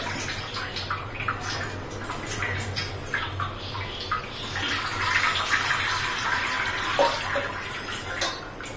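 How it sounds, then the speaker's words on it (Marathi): Fresh fenugreek leaves swished and rinsed in a bowl of water, with continuous splashing and sloshing up close and brief drips as the leaves are lifted out. "सगळ्यात पहिले आता आपल्याला मेथी धुवून घ्यायची आहे। 2 ते 3 पाण्याने चांगले स्वच्छ धुवून घ्यायची आहे।"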